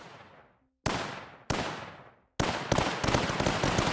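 Trench units in the video game Tower Dominion open fire in heavy bursts: a few separate sharp blasts with decaying tails, then a dense, continuous volley of loud shots.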